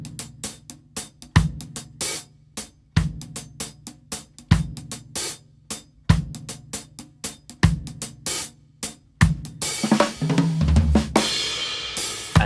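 Reggae one-drop drum groove on a drum kit with a kick and cross stick landing together on beat three, a swung hi-hat ticking steadily, and a cymbal crash swelling toward the end.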